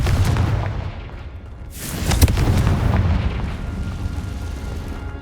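Confringo explosive spell blast in the Hogwarts Legacy video game, a booming burst around two seconds in with a sharp crack, followed by a rumbling tail amid ongoing game ambience.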